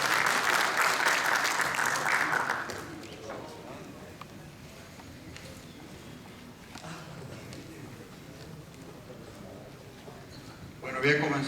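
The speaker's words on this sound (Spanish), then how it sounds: "Un nuevo aplauso para el doctor Blanco, Carlos Blanco Fadón" Conference audience applauds a speaker at a lecture, a loud burst of clapping at the start that thins into scattered, softer claps with a voice under it, then a brief renewed spurt at the end.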